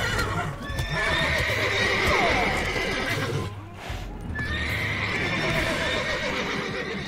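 Horses in The Witcher 3 video game give repeated loud neighs and whinnies, two long bursts separated by a brief lull, with clip-clopping hooves beneath.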